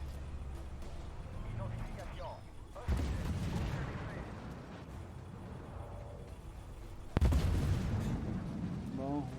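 A Merkava Mk I tank cannon fires in the Armored Warfare video game, heard as two heavy booms several seconds apart over steady engine rumble and game noise, with someone talking in French throughout.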